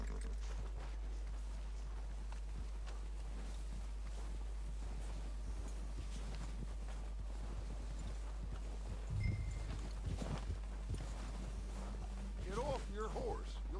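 Horse hooves clopping in Red Dead Redemption 2 during a stealthy approach to an enemy camp. The soft hoofbeats run under steady character dialogue and wind, and a few more distinct steps come near the end.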